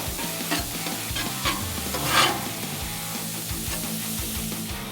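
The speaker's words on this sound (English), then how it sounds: "Let's brown our hamburger here." Ground Angus beef browns on a Blackstone griddle with a continuous sizzle, and a spatula scrapes and chops it in repeated strokes close by, with no talking.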